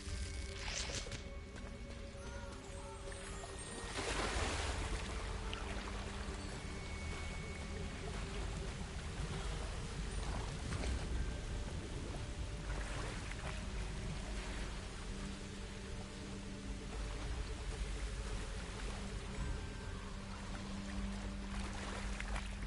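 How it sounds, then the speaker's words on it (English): A waterfall in the Hogwarts Legacy video game pours and splashes steadily, a continuous rushing wash of water that persists throughout at moderate loudness with faint game ambience. "The waterfall."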